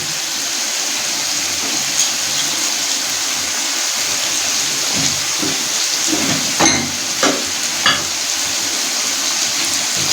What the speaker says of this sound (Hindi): अदरक और सब्ज़ मिर्च स्लाइस में कटी वो भी इसमें ऐड करके उसको मिक्स कर देंगे